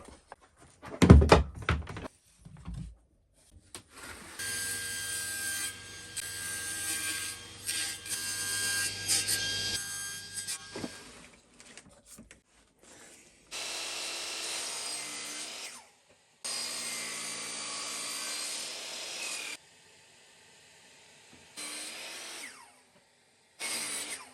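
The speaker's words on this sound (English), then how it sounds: "I'm just going to cut them first and then we'll cut the miter." Pieces for a granite surface plate frame are cut, with a loud thunk, then long stretches of close power-saw whine and cutting in several separate bursts with short pauses between them.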